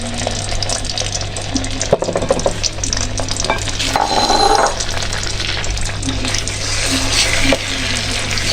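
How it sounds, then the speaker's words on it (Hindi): Semolina sizzles and crackles steadily as it is stirred and roasted in a pan with desi ghee for halwa, with occasional scraping and a brief louder hiss partway through, close and continuous. "इसको अच्छी तरह भूनेंगे पानी खुश्क होने तक।"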